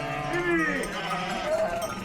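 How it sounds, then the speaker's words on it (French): Sheep bleat on open upland plateaus, two wavering bleats rising over a steady murmuring background, with only faint hints of their bells. "On entend le bêlement des moutons et le tintement de leurs cloches."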